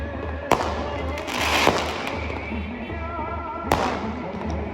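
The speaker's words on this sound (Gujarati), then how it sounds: "એટલા ફટાકડા ફૂટે છે જોરદાર છે" Fireworks and firecrackers bursting at a wedding in sharp cracks, with three loud reports standing out over a steady rumble of distant crackling.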